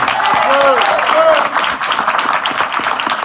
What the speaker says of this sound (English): Clap it up for our free telecast.